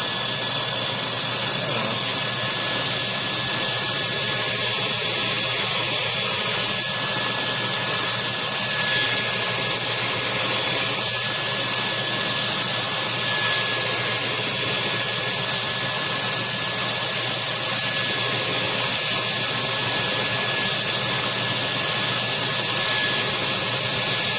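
A power grinder runs steadily while shaping a knife blade toward its tip, a constant high-pitched whine and hiss that holds level and loud for the whole stretch, with no voices.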